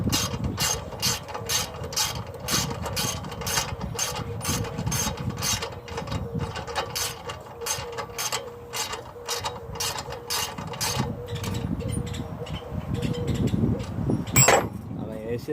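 A socket ratchet tightens a strut bolt on a car, its rapid, evenly spaced clicks running close and loud for most of the stretch before giving way to a few louder knocks.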